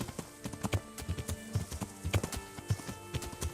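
Horse hooves clop in a quick, uneven gallop rhythm on the ground in the medieval game Kingdom Come: Deliverance, fairly soft, with faint game ambience underneath.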